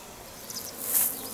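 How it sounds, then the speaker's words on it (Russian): A bee buzzes past outdoors in a village garden, a brief rising and falling hum that swells closer for a moment and then fades. "только что мимо меня пчела летела"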